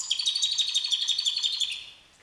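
A young songbird's brother sings a continuous run of rapid, high chirping notes for about two seconds, clear and close, with no other sound.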